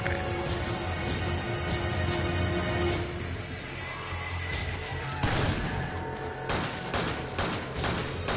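Rapid volleys of gunfire in Resident Evil, loud and continuous with heavier distinct shots toward the end.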